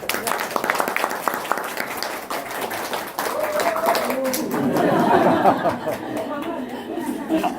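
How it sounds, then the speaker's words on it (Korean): An audience at a humanities history lecture on East and West modern history breaks into applause and light chatter, the clapping swelling midway and continuing under murmuring and a few chuckles. "올해 시작하실 때 박수 주시고"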